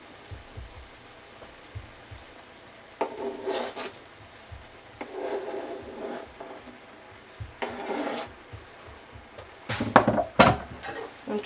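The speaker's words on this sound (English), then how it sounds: "I'm just adding in the yam that I've cut up into the stir fry." Cut yam added to a vegan stir fry and stirred in, heard as scraping, rubbing bursts of utensil against pan and food, arriving in several separate strokes and a busier cluster near the end, close and moderately quiet.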